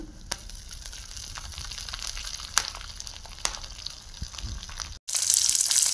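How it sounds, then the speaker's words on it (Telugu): Green chillies, curry leaves and ginger pieces frying in hot oil over a low flame for a raw mango upma, giving a steady close sizzle and crackle with scattered pops before a brief pause. "పచ్చిమిర్చి, కరివేపాకు, అల్లం ముక్కలు వేసేసుకోవాలండి."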